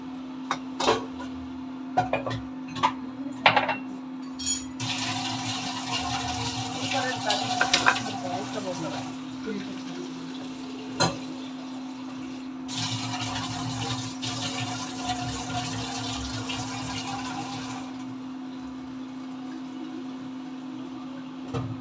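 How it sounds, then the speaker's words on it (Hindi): Many dishes are washed under running water, with a steady stream, clinks and scrapes of pots and plates, a constant low hum beneath and occasional louder clatters. "बहुत सारे बर्तन हो रहे हैं।"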